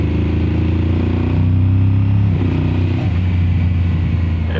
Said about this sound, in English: It feels great to hear the bike running again